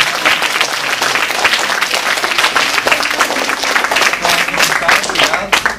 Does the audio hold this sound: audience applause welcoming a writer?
yes